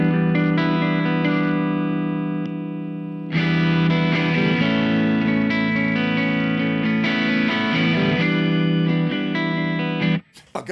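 An electric guitar plays through a real amp and pedals, giving sustained distorted chords with a chorus shimmer. After a held chord the sound grows louder partway through and then cuts off abruptly in a short burst of noise.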